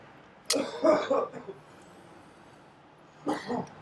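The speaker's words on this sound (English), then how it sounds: "Coughing." A few harsh coughs or throat-clearing bursts, close by, followed after a pause by another short pair of coughs.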